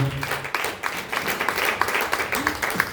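Congregation applause at a church book review, steady, dense clapping throughout with a voice briefly heard over it.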